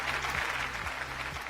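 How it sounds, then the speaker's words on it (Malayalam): A studio audience on a Malayalam television show gives a short, steady round of applause, a dense even patter of many hands clapping at moderate distance with no voices over it. "അശ്വന്തിന് നല്ലൊരു കയ്യടി."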